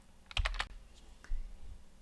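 Keys clatter on a computer keyboard, a quick close burst of three taps followed by a softer single press, with no talk.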